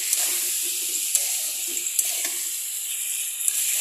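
Small fish sizzling in a pan with turmeric and chili powder for choto macher jhal, a close, steady hiss with faint scraping stirs and light ticks, no voices.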